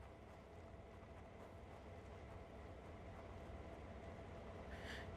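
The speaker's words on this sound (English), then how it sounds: "I can hear the trains a little bit. The engines." Low, steady rumble of train engines in an Xbox Series X video game, a continuous even drone throughout with a brief higher hiss near the end.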